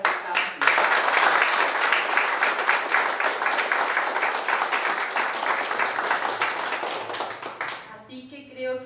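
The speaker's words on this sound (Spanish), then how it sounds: "creo que hoy se merecen todos ustedes un aplauso," Dense, sustained applause from an audience at a certificate ceremony for a drum-building workshop, loud and steady for about eight seconds before fading as a voice begins.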